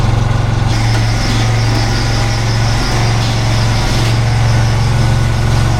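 A steady, loud mechanical drone of a running riding mower engine, with a continuous rattling whir from a noisy pulley layered throughout.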